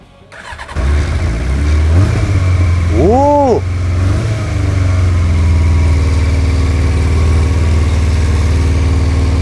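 A Yamaha XJ 600 motorcycle engine fires up and settles into a loud, steady idle close by, running without a fuel filter, with a brief whoop of a voice partway through.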